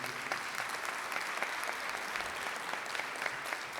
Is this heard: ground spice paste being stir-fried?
no